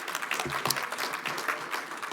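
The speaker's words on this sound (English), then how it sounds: "Please, can we clap for them again?" Audience applause at a US–Africa business forum deal room, moderately loud clapping that holds steady throughout, with a few sharper individual claps standing out early on.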